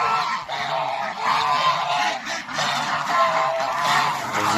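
Several geese honk loudly and repeatedly, overlapping in a noisy, continuous chorus close by.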